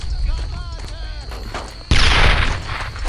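A grenade blast in the World War II shooter Brothers In Arms: Earned in Blood bursts loudly and abruptly partway through, following a stretch of game noise and a raised voice, then rumbles on for about a second.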